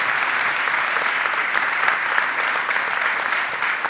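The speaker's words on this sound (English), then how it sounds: "First of all, can you give a warm applause to these fabulous speakers?" Conference audience at a European Maritime Day event applauding speakers, a dense, steady wash of many hands clapping close and loud, with no break.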